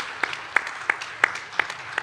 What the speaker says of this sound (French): merci de bien vouloir les applaudir